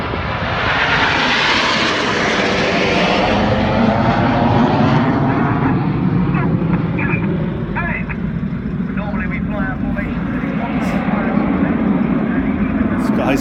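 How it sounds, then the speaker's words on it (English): Red Arrows jets at the Sunderland Air Show roar loudly and continuously overhead, a broad jet rumble that swells and slowly shifts in pitch as the formation swings past, with a commentator talking over it throughout. "the following pilots use a lot of rudder to swing the jets out in a pendulum"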